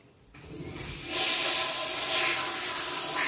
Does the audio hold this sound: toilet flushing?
yes